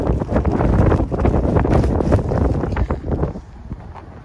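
Strong wind of a whiteout snow squall with 50+ mph gusts in Natick, Massachusetts, roaring and buffeting loudly against the microphone before easing slightly toward the end.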